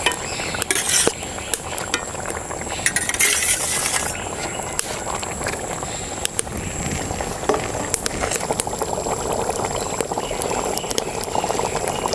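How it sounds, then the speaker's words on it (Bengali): Bengali pangas fish curry gravy (macher tel jhal) bubbles at a lively boil in the pot, with a few clinks of a stirring spoon and light splashes over a constant close simmering hiss; no one speaks. "ঝোলটাকে 2 থেকে 3 মিনিট ফুটায় নিছি ভালো করে।"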